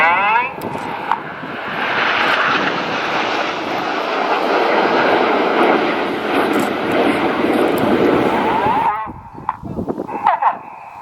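Red Arrows display jets roaring overhead in tight Vixen formation at an air tattoo, a loud sustained sweep of engine noise that fades to crowd sounds near the end.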